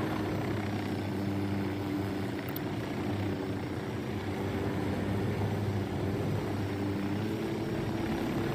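A helicopter in Ghost Recon Wildlands drones steadily with a continuous rotor and engine hum, moderately loud and unbroken, with no talking.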